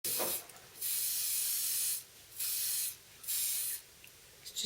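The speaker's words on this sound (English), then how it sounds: "And just need to spray them with glaze." Four hissing bursts of glaze from a spray can, aimed at flower paste Christmas roses. Each burst lasts about a second, with short pauses between them. The spray is close and fairly loud, and nothing else is heard.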